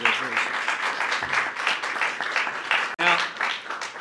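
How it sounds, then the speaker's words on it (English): Applause for a group of schoolchildren at a news conference, with voices and cheering mixed into a steady wash of clapping that runs throughout. "Give these kids another round of applause, will you?"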